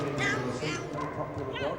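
A Belgian Shepherd barks at an agility show, a few sharp yips heard under a commentator's talk and crowd noise in a large arena.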